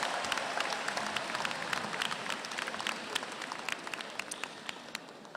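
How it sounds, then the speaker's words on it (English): Faint, distant applause from a large crowd at a university convocation ceremony, a soft continuous patter of many hands with scattered sharper claps, no voices on top. "another round of applause for President Rodriguez."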